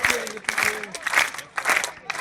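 Audience clapping along in rhythm at a live Hindi devotional song performance about the Santoshi Mata story, a steady run of near, regular claps with a singing voice over it.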